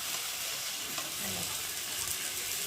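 Marinated chicken sizzles steadily in a spiced masala in the pan as it is stirred and fried, a continuous hiss with soft scraping and no talking.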